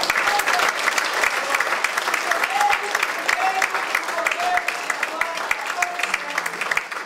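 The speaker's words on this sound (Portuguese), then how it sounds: "Eu gostaria de encerrar essa mensagem aplaudindo ao Senhor" A church congregation claps steadily and loudly together, with a few faint voices and sung tones threaded through the dense applause.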